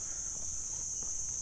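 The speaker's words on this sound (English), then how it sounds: "And the cicadas, the bugs, are starting up" Cicadas calling on a morning walk around a reservoir in Chiang Mai, a continuous high, even buzz holding steadily throughout, with faint low background ambience beneath.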